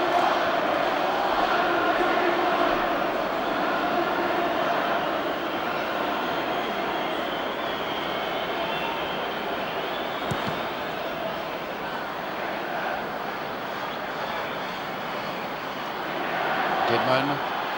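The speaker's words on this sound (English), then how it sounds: "Crowd shouting, "We want 5."" Dense crowd noise at Wembley Stadium during England v Luxembourg, a 1977 World Cup qualifier, fills the air as a continuous roar with rhythmic chanting woven through it, staying loud and steady throughout.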